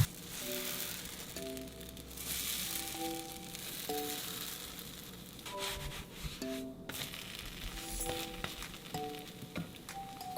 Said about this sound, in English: So while the pancakes are cooking, I like to multitask and get things done.